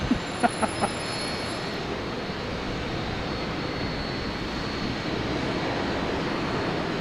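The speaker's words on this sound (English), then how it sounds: "We got a nighttime KLM landing here." A KLM airliner landing at Boston Logan Airport at night gives off a steady, broadband engine roar that holds at an even level throughout, with a few faint knocks near the start.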